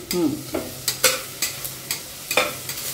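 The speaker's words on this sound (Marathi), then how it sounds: "कांदा छान परतवत येतोय" Onion sizzles in a hot pan while a spatula scrapes and stirs in quick, regular strokes, close and clear.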